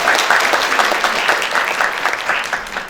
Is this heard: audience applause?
yes